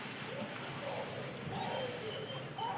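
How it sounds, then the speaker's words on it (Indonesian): A soft, steady hiss of fine mist spraying water, fairly close, with faint background noise. "Semprot dulu pakai semprotan yang halus."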